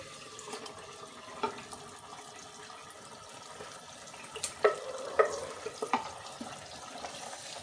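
Sarson ka saag, mustard greens, being fried with roasted masala and stirred in a pan: a low hiss of cooking under faint scrapes and a few sharp clinks of the spoon against the pan.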